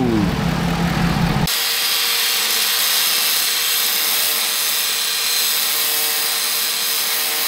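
Power tool cutting away shiny metal on a Ford truck, a loud steady high-pitched grinding whine running without a break after a brief lower engine-like noise at the start.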